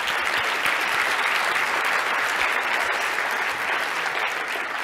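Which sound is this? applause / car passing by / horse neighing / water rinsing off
applause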